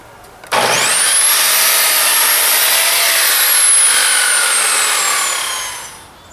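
A power saw slices through the end of a rough lumber board while framing a garden shed greenhouse: a loud, close whine spins up abruptly, holds steady for several seconds, then winds down, with no voices.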